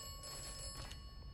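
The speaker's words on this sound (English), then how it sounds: "The phone is literally ringing right" A telephone rings indoors, its bell tone holding steady and fairly faint across a noisy low background.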